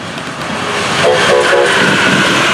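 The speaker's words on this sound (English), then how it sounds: "Take a look at this train." A train rolls past at close range on a level crossing at Rouse Road, a loud building rumble with wheel and rail noise swelling toward the end, no talking.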